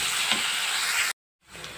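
Ginger-garlic paste frying on a high flame gives a loud, dense, close sizzle that cuts out abruptly for a moment, then resumes a little softer.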